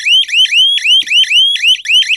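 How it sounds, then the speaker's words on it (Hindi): A solar fence energizer (jhatka machine) buzzer shrills loud and close in a fast, continuous run of rising electronic chirps, about four per second, with no voices. "अभी इसको हाई में कर दूंगा तो बजर कंटिन्यू बज रहा है"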